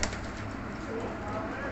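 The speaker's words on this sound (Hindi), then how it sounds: "ये देखें सियालकोटी कबूतर" Sialkoti pigeons in a loft kept for sale, soft low cooing murmurs mixed with a steady background hum, faint and continuous with no clear separate calls.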